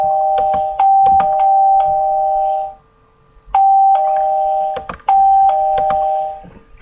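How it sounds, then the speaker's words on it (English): Repeated doorbell chimes in quick succession, bright two-tone electronic ding-dongs sounding several times in overlapping bursts with clicks between them and a brief gap in the middle, loud and close. "Too many doorbells."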